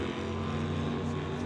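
A Camaro called Catch 22 from Delta and Jerry Epp's Mustang from Abbotsford at an old-time drag race in Langley, heard as a loud, steady engine drone that holds throughout without any voices.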